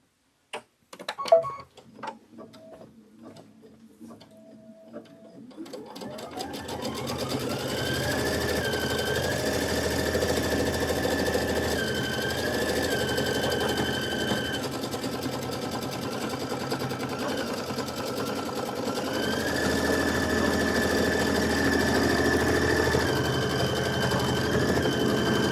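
Embroidery sewing machine running a quilting stitch on a watermelon quilt block: a few clicks and beeps at the start, then a continuous fast mechanical whir with a shifting motor tone, close and steady.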